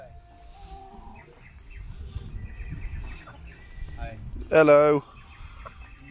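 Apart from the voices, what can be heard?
chickens clucking on a rural path in China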